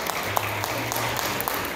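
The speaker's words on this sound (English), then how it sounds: "please give us a big round of applause for Mr. Vegan Evan, Amari Spigner, and Royce" Applause from an outdoor crowd at a vegan food festival, a short, fairly faint spell of scattered clapping with light background noise.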